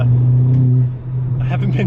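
A tuned Ford Fiesta ST with a VT330R hybrid turbo at Stage 3 pulls hard, a loud steady engine drone heard from inside the car that drops briefly and then climbs again, with speech over it.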